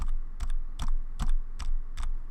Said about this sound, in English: If I push F9 on the keyboard